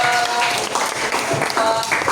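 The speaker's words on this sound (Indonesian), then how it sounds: "Tepuk tangan untuk kelompok 2" Brief, moderate applause from participants at a coding training session for group 2 after its presentation, a few seconds of mixed claps with some overlapping voices.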